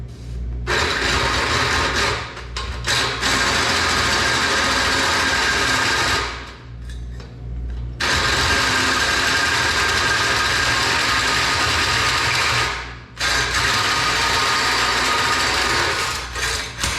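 A hole saw bores through steel roll cage tubing for a CJ2AU build, a loud continuous whining grind that runs nearly the whole time, dipping briefly twice as the cut pauses and resumes.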